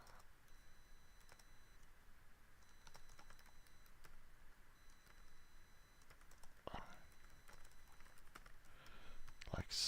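Soft, rapid keyboard typing while code is written for a RISC-V emulator in C#, quiet clicks and taps running steadily throughout with a brief louder burst near the end.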